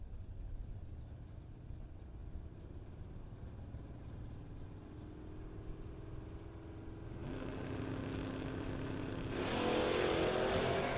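A Chevrolet Malibu and a 1988 Mustang at a drag race roar from a distance, their engine noise swelling steadily louder and brighter toward the end with a rising revving whine.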